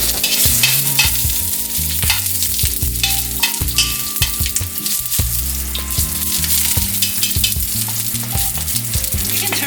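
Ginger dropped into hot oil in a wok sizzles loudly and steadily up close, with repeated scraping and stirring strokes of a utensil against the metal.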